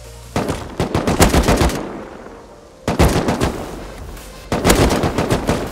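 An AK rifle in the video game Rust fires three long automatic bursts, loud and close, with short pauses between them.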